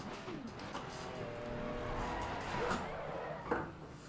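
Race car tyres skid and squeal in the Assetto Corsa Competizione sim racing game, a wavering screech over a steady engine drone that swells briefly midway, with a sharp bump near the end.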